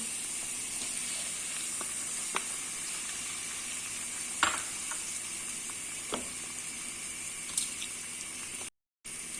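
Two chopped medium tomatoes sizzle steadily in a hot frying pan, a constant bright crackle with a few louder pops and taps, then a brief cut to silence near the end.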